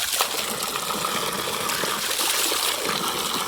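Cold water pours steadily from a stone spout at a public tap beside Lami Tal lake, a continuous close splashing gush with no voices.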